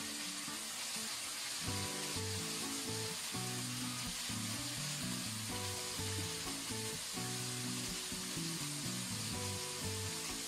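Seasonings stir-fried in a hot wok for leftover-rice fried rice, a steady loud sizzle with scraping and clattering strokes of the spatula throughout, no voices.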